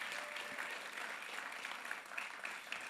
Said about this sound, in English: one more round of applause just for April